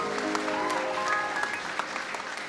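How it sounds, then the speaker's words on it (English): Audience applauding at a Christmas holiday stage show, a steady round of clapping with a few sustained musical tones underneath at the start. "How about a big round of applause for Johnny"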